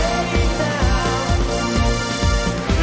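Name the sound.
synth playing pre-chorus with jazz beat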